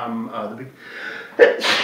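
A person speaks briefly, then one sharp, close sneeze bursts out, followed by a short breathy exhale.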